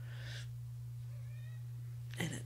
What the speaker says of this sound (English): that's my cat. She just came in again.